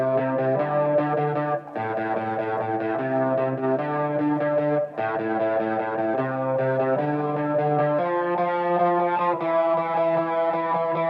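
Repetitive electric guitar pattern played through the Guitar Rig Chimney Rock amp simulator for a Russian post-punk beat, chorus-laden chords cycling in a steady loop, loud and continuous without talk.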